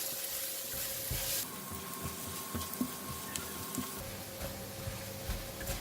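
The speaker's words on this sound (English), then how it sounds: "Stir fry until garlic turns brown." Garlic stir-frying in heated cooking oil in a pan, a soft, even sizzle with occasional light clicks and scrapes of stirring, fairly quiet and steady, with no voices.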